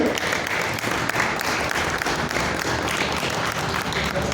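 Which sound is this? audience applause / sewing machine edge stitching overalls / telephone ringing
audience applause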